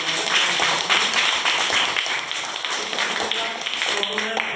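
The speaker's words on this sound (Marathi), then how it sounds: "सर्वांनी मॅडम त्यांचा जोरदार टाळ्या वाजवून" Students in a classroom applauding a visiting madam, a dense steady burst of many hands clapping together, loud and close, lasting the whole moment with some voices mixed in.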